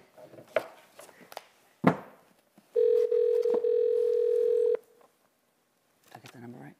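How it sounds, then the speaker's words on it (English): A telephone number is dialed: a few scattered clicks and taps, then a loud, steady tone held for about two seconds, with a brief voice at the end. "you're getting to dial all the numbers."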